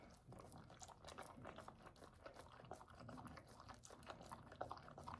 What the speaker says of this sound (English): and then I'm just going to let him lick.